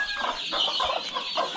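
Young village chicks, about fifteen to eighteen days old, keep up a stream of close, overlapping high chirps and peeps, fairly quiet and with no talking.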